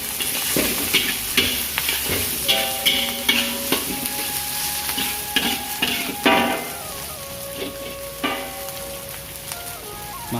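Sliced curly chili goes into a hot pan for rumpu rampe, an NTT-style vegetable dish, and sizzles while a utensil stirs and scrapes against the pan, with repeated clinks over a steady frying hiss.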